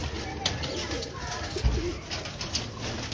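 Breeder pigeons cooing on a rooftop in Lahore, with soft low coos and rustling close by and people speaking in the background.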